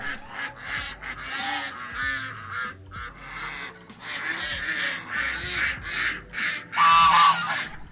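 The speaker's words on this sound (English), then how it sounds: "even ducks." Ducks at a cider mill honk and quack loudly in a close, busy chorus, overlapping calls rising and falling with a few short pauses.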